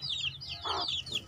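Chicken clucking nearby, with a few short high calls repeating over about a second, plus a quieter burst in the middle over a low background hum.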